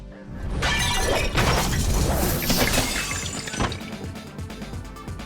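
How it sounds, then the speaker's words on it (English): Bones slashed and shattered in a Fate Stay Night PC game battle, a loud crashing burst of breaking, splintering impacts lasting a few seconds before tapering off. "I slash at the bones sliding up on me."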